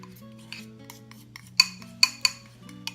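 A utensil scrapes and scoops melted chocolate from a bowl, with soft scraping and a few sharp metallic clinks against the bowl, close and isolated, no voices.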